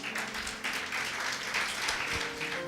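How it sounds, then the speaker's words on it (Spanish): A church congregation claps for the Lord during a sermon, a dense, sustained wash of applause with faint low murmuring beneath it. "¿Cuánto le damos palmas al Señor?"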